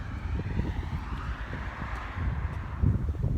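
Strong wind outdoors in California buffets the microphone, a loud, continuous low rumble with gusty surges and no voices.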